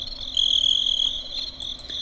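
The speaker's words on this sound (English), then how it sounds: "right now I just have crickets" Crickets chirping as a sound effect during a live stream, a steady high-pitched trill that runs continuously and stays fairly loud throughout, with no voices.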